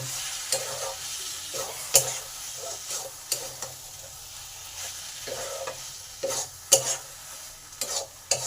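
Cashews and raisins are stirred into papaya curry frying in a pan, with a soft sizzle running under repeated scraping strokes of a spoon, close and intermittent.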